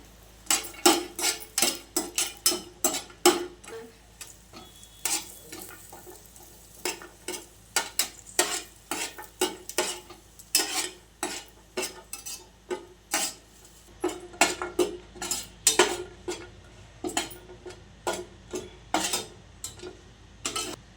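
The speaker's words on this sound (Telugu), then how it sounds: "ఒక స్పూన్ నెయ్యి వేసుకొని జీడిపప్పు కిస్మిస్ వేసి వేయించుకోవాలండి" Cashews and raisins frying in a spoon of ghee in a pan, with a soft sizzle under frequent sharp clinks and scrapes of a spoon stirring against the metal, repeated steadily throughout.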